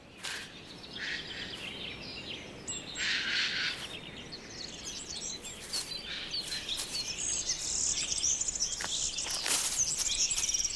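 Many birds sing and chirp together in an orchard, a steady layered chorus of high calls near and far with faint insect buzzing beneath.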